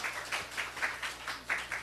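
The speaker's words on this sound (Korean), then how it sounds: "우리 하나님께 박수 올려드려요." A church congregation claps during a Sunday service, a short run of distinct, rhythmic claps in an even beat, moderately loud in a reverberant room, with no speech over it.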